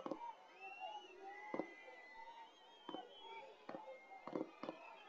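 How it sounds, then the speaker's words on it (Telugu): Firecrackers burst at an outdoor political public meeting in Kamalapuram, heard as about six faint, distant, sharp pops at irregular intervals over a quiet background with thin whistling tones. "క్రాకర్స్ కాల్చే వాళ్ళు ఆఫ్ చేయాలి."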